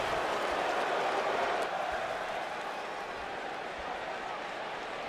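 Wrestling arena crowd in WWE 2K19 keeps up a steady, broad roar of cheering, slightly louder at first and then easing to a constant wash of noise.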